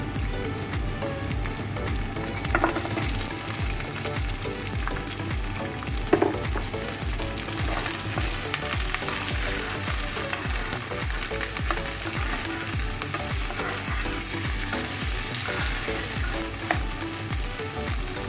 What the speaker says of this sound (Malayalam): അതിൽ ഫസ്റ്റായിട്ട് നമ്മൾ ചേർക്കാൻ പോകുന്ന കറിവേപ്പിലയും അതുപോലെ തന്നെ നമ്മുടെ കട്ട് ചെയ്ത് വെച്ചേക്കണം ഒനിയനും കൂടി ചേർത്ത് കൊടുക്കാം